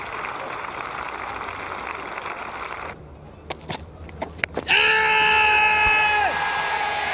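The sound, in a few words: cricket crowd cheering a six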